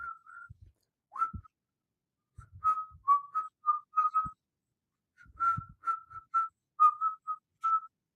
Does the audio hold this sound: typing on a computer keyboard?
no